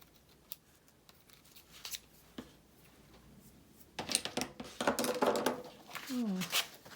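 Sewing scissors snip through fabric in a quick run of close, crisp cuts after a quieter stretch of faint handling sounds, with someone talking.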